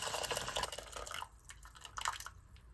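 Tap water runs into a rice pot in a home kitchen after the rice has been drained, a steady splashing flow that thins out midway and then picks back up, close by with no talking.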